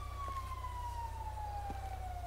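A police car siren in a video game sounds as a single steady, slowly falling wail over a low continuous engine-like hum, moderately distant and without any talking.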